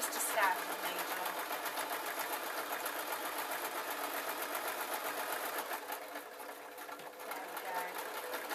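Sewing machine running a plain straight stitch through fake lamb's fur with a standard needle, a steady close whirring hum that runs without pause throughout.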